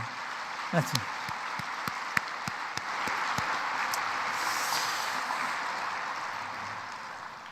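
A church congregation at a prayer retreat breaks into applause for the pastor, a few sharp early claps swelling into a steady, moderately distant wash of clapping with faint voices beneath it.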